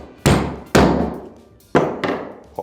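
Metal hammer of a pneumatic batten stapler being worked during cleaning, giving four sharp clacking snaps at uneven intervals, each ringing briefly before fading, close and loud with no talk.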